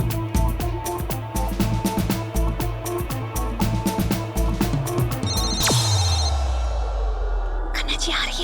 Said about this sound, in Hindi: शिवाय सर का फोन